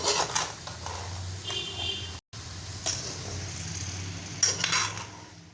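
Cauliflower and potato being stirred with spices in a pan, with scraping and clinking of a utensil against the metal in short bursts, close by and with no talking.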